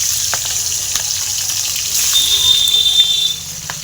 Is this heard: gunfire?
no